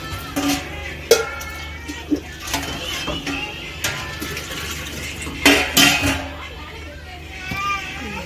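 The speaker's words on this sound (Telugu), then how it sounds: "కడాయి పెట్టుకొని దాంట్లో ఆయిల్ వేసుకోవాలి" Metal pans clank and clatter in a kitchen in short, scattered bursts as a wok is set down and oil poured in, with voices chattering in the background.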